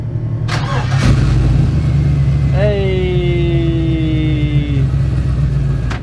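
An old barn-find car cranks and its engine catches, revving up and holding a steady running note for several seconds, loud and close, with a brief shout over it.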